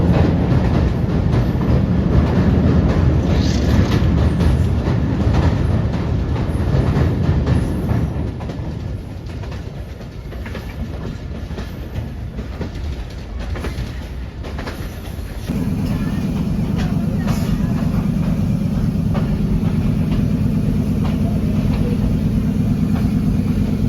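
A passenger train departs Shekhupura station, its steady rumble and rolling wheel noise filling the carriage, with the running note shifting and growing louder partway through as it picks up.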